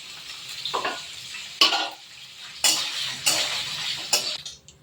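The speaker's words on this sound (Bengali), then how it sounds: "পনির পনিরটা হালকা একটু নুন দিয়ে আমি ভেজে নেব" Small pieces of paneer with a pinch of salt frying in a pan, with sizzling under repeated scraping and clinking stirs of a spatula against the metal, several sharp bursts spaced a second or so apart, close and alone.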